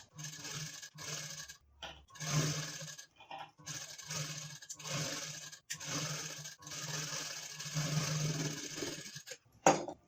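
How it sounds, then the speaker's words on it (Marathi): Sewing machine stitching a double seam on a gown being taken in for fit, steady whirring runs broken by short pauses, close and moderately quiet with no talk. "यावर आपल्याला एक डबल शिलाई करायचं आहे"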